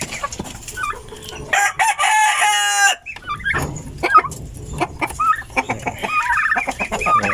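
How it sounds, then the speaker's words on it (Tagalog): Several turkeys gobbling at close range, with loud gobbles and clucking overlapping one another in a busy, continuous chorus. "Ang alaga nating mga pabo."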